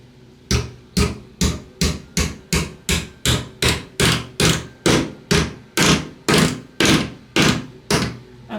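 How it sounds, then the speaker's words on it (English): Steady hammer blows pound something flat, about two strikes per second for over eight seconds, each sharp close impact ringing briefly before the next, with no talking. "So let me see if I can hammer that flat."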